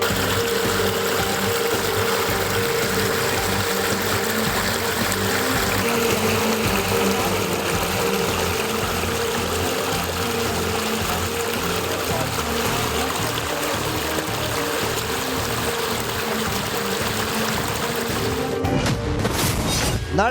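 An electric pump set on a farm pushes water into a field, with a loud continuous motor drone and rushing water that persist throughout before a sudden change near the end.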